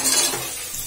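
Vegetables frying in oil in a pan for paneer pulao, giving a steady close hiss and sizzle with some stirring for a brief moment, no talking.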